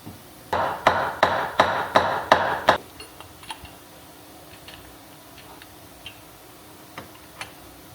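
About eight quick, evenly spaced hammer taps ring out close by, driving a part into place in a transmission PTO pump, then stop, leaving faint scattered clicks.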